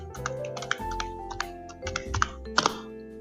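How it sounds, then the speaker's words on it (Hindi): Typing on a computer keyboard, a rapid run of close clicky keystrokes with uneven rhythm, including presses of the Enter key. "हम लोग एंटर प्रेस करेंगे।"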